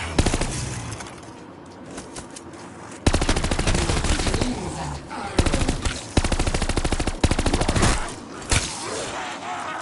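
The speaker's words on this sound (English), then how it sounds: "Why am I shooting?" Loud machine-gun bursts in Call of Duty Vanguard Zombies. Rapid fire comes in several separate strings with short gaps between them, sharp and close, over game background noise.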